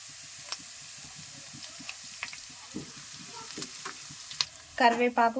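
Dried red chillies and curry leaves frying in hot oil give a steady crackling sizzle with scattered sharp pops, ending in a brief burst of nearby voice.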